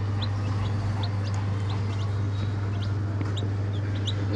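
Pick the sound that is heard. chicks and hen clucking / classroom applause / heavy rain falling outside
chicks and hen clucking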